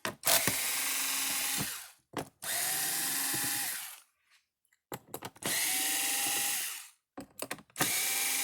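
Power drill working Phillips screws loose from the housing of a Kencove solar fence charger, a few separate close, loud whirring bursts of a second or two each, broken by brief pauses and small clicks.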